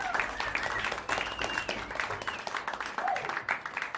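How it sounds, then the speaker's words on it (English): Concert audience applauding a band's baritone saxophone player, a dense steady wash of clapping with some cheering and whistles, filling the whole stretch at moderate loudness. "Please give her a round of applause."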